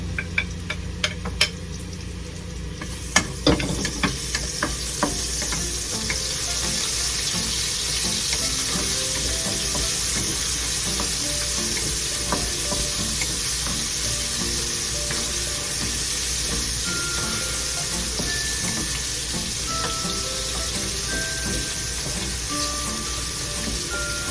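Garlic frying for pancit bihon, a steady dense sizzle in a pan with a few sharp clacks of stirring at the start, continuing alone and evenly throughout.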